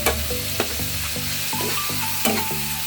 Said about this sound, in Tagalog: Lagyan ko lang ito siya ng kangkong.